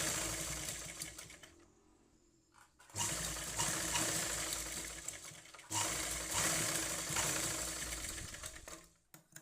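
An electric sewing machine stitches hangings onto a skirt in two long whirring bursts separated by short pauses, close and steady with no speech.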